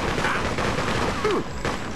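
Gunfire in the Freedom Fighters video game crackles in a steady, dense volley for about two seconds, loud and close with a constant busy texture.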